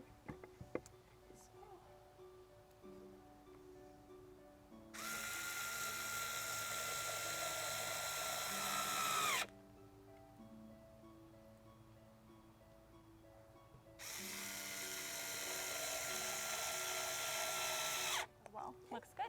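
Two long bursts of a cordless power drill driving screws to fasten the roof onto a wooden nest box, each run steady and close for several seconds, separated by a quieter pause with faint handling.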